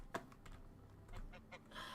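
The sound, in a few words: geese in a barn, from the video game Medieval Dynasty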